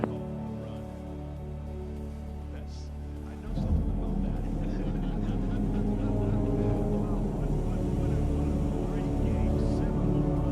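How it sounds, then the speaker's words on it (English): Ornithopter engine in a flight simulator game starts up, shifting from a low steady hum to a louder, rougher continuous motor drone that runs on steadily. "Now, start the engine to get the wings flapping and take to the skies."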